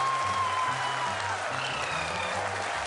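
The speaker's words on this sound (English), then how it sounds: "People are applauding." Audience applause during a live broadcast of India's ISRO moon landing, a faint, distant wash of clapping under a steady low hum and tonal background noise.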